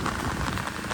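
Steady rain pours in the Konkan countryside, a dense, continuous hiss of drops hitting surfaces, loud and close with no other sound standing out.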